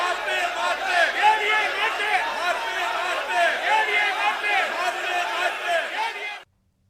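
DMK members of the legislative assembly raise a loud uproar during a confidence vote, many voices shouting over one another in a sustained, chaotic din that cuts off abruptly at the end.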